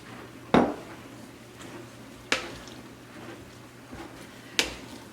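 Three spaced spoon knocks against a bowl while flour is stirred into a very wet, rough no-knead bread dough, faint and close with long quiet gaps between.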